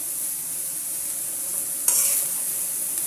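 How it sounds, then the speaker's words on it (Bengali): Papaya stir-fry seasoned with turmeric sizzles steadily in a pan nearby, with one brief louder scrape of stirring partway through and no voices. "এবার আমি ভাজিটাকে সুন্দর করে নেড়ে নেব"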